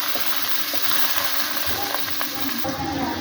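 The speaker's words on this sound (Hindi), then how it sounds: "इसको थोड़ा सा फ्राई कर लेंगे।" Onions frying in a pan for a chicken neck curry, a steady dense sizzle with occasional stirring scrapes, loud and close throughout.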